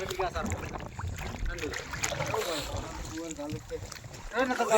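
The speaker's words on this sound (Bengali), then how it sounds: "আমাদের বোট নৌকো স্টার্ট হচ্ছে" A small motor boat's engine runs near the shore of Mousumi Island, a low mechanical drone beneath nearby voices talking throughout.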